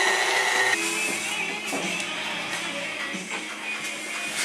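An electric mixer whirs steadily as it beats cream into cake frosting for a three-layer cake, a continuous close-up mechanical drone with slight shifts in pitch and no talking.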